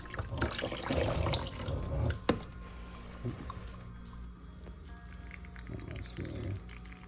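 Tap water runs gently from a faucet, a soft steady trickle and splash heard under a person talking, fairly quiet and close throughout.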